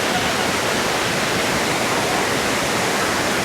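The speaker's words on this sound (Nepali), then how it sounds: "यो हो बागमती नदीको झरना" The Okhreni (Pangsam) waterfall on the Bagmati river in the rainy season gives a loud, steady, unbroken roar of falling water that fills the whole span.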